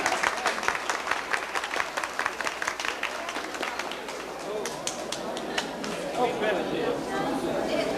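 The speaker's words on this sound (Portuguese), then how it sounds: "Palmas." A crowd claps in dense, rapid applause that gradually thins out, with murmuring voices underneath.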